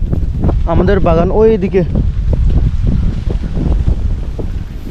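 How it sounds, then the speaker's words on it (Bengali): Strong wind buffets the microphone outdoors on a hillside road near banana groves in Thanchi, Bandarban, after afternoon rain, a steady rumbling roar running the whole time beneath a person speaking. "আর প্রচুর বাতাস বইছে"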